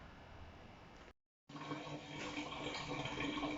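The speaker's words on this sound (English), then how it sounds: "so I'm draining the oil now" Engine oil drains from the sump of a Mitsubishi L200 DI-D pickup with the drain plug removed, a steady close pour and splash that cuts out briefly, then returns fuller and louder.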